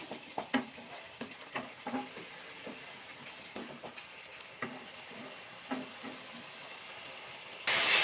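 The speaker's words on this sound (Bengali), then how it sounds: "মশলা বাটিতে জলটা দিয়ে দেবো মশলাটা ভালো করে কষিয়ে নেবো" Spice paste of turmeric, green chili and salt cooking down in a pan, quiet frying with a series of spatula scrapes and taps, ending in a sudden loud burst of hissing sizzle.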